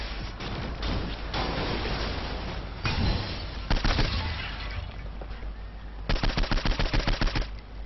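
Rapid gunfire in the video game Saints Row 4, with bursts of automatic fire, sharp cracks and a fast rattling volley near the end, loud and close.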